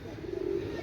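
Two male pigeons, an Oman Teddy and a KTM Teddy, give a low, soft coo that swells for under a second, close by, with no talking.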